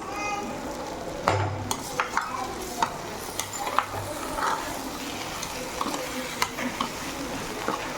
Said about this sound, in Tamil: வறுத்த ப்ரெட்டையும் போட்டுடலாம். போட்டு ஒரு பரட்டிக்கலாம்.